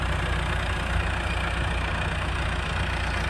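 A tractor engine idles with a steady low rumble and a dense, even mechanical drone, close and fairly loud, with no audible start and no talk.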